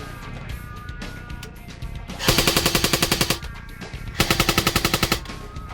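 A Tokyo Marui M14 airsoft rifle test firing in two rapid bursts of clicking shots, each a fast even rattle lasting about a second, close and loud over a steady background.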